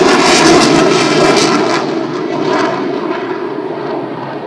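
A propeller airplane passing overhead, a loud sustained engine roar that is strongest at first and slowly fades as it moves away, with no voices.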